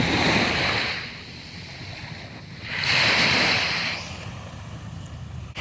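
Wind and surf on a beach in Thailand: two loud swells of breaking waves rush in and fade, with steady wind buffeting between them and no voices.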